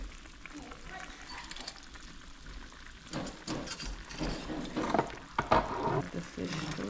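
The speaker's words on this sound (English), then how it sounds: "Add the fish to the pot." Fish hits a hot pot for brown stew and starts frying, with crackling sizzle that swells and grows busier partway through, along with some stirring clatter and a voice talking over it.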